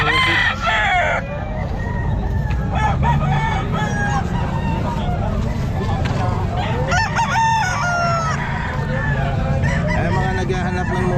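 Several roosters crow repeatedly at a busy chicken market in Calumpit, with clucking hens and a noisy crowd around, and people talking throughout.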